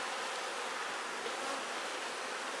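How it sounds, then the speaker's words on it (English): Dense, steady buzzing of many honeybees around a struggling hive colony, a continuous close hum filling the whole moment with no voices. "we're also not going to let these bees starve"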